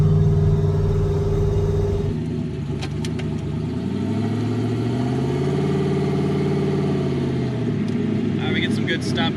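Turbocharged Datsun 280Z engine in stop-and-go street driving, a steady close engine drone that settles and swells as the car slows and pulls away, with voices talking over it.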